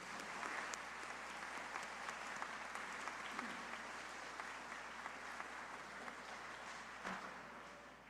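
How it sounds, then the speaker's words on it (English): Audience applause for regional winners at a student art competition awards ceremony, a steady, dense clapping that holds for the whole stretch with no voices rising above it. "Let's give a wonderful round of applause for our regional winners."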